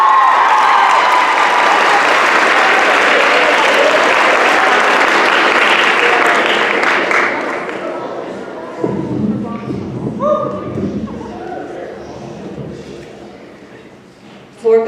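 Loud, dense audience applause at a poetry recitation competition, sustained for about seven seconds before tapering off, followed by quieter room sounds, shuffling and a voice speaking near the end.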